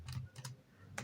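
Keys on a computer keyboard clack in a few quick bursts while someone types into a web browser, close and clear with no talking.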